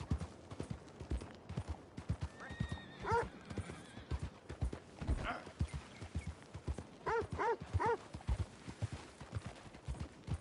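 Horse galloping in Red Dead Redemption 2: a fast, regular clip-clop of hooves from close by, broken by several whinnies and snorts, with no talk over it.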